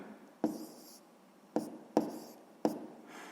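Pen strokes on paper while a 6th-grade fraction calculation is written down: four short, close scratchy bursts spaced irregularly across a few quiet seconds, with no voices.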